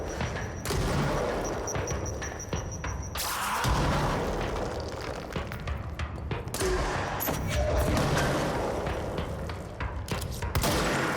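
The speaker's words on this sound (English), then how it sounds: "Enough with the bombs!" Bombs going off in the video game Control, with dense booming blasts and crackling debris in a near-continuous barrage, loud and chaotic throughout.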